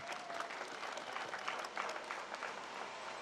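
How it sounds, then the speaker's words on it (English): Graduates at a training institute graduation ceremony applaud themselves, a fairly faint, even wash of clapping from a crowd that carries on steadily without voices. "Please clap for yourselves."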